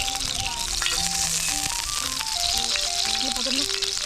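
Cumin sizzles and fries steadily in hot oil at an overnight dam-side campsite, a loud continuous crackle close up, with voices talking over it.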